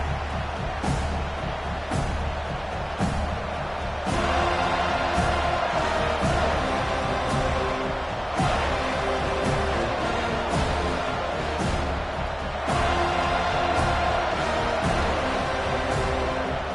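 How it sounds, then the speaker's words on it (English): A stadium crowd in the College Football 25 video game roars steadily and loudly as the game opens, with Florida State's Seminoles kicking off, and thumps and swells ride on top of the crowd. "This crowd bringing an ear-splitting welcome to their visitors"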